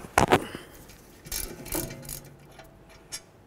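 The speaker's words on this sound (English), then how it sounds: "We're gonna use our 15 millimeter socket and remove this mounting bolt and this mounting bolt right here." A 15 mm socket wrench loosens a rear brake caliper mounting bolt on a 2007–2014 Ford Edge, with a few sharp close clicks followed by softer scattered ratcheting ticks.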